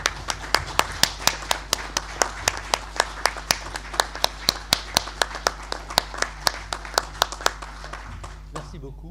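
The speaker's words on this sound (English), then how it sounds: "nous allons tous les applaudir." Audience at a French breast cancer conference applauds an Oregon Health & Science University professor: a steady run of crisp, evenly spaced claps for about nine seconds over a low background hum, fading out at the end.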